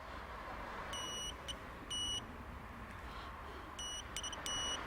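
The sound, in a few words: continuity tester beeping on Peugeot airbag wiring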